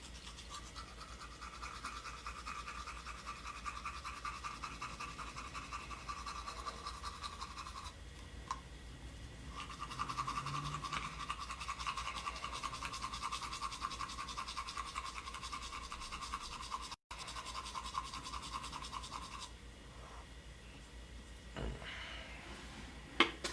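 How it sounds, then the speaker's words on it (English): Teeth being brushed with Crest 3D White toothpaste, a steady close scratchy scrubbing that runs almost continuously with brief pauses, faint and alone. "Brushing my teeth with some Crest 3D white."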